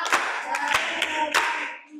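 Scattered hands clap in a few uneven bursts from a small audience at a talk, fairly near and moderately loud, with the claps thinning out toward the end.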